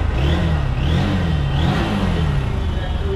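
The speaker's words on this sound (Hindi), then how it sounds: "गाड़ी को स्टार्ट करके दिखाएंगे आप" A second-hand Honda Hornet motorcycle in good condition, with about 6,000 km on it, runs loud and close, its engine note rising and falling through repeated revs with a steady rumble underneath.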